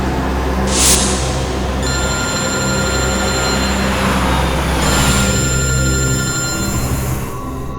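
A telephone rings loudly and continuously at close range over a steady low hum, as in an indoor scene from a crime drama.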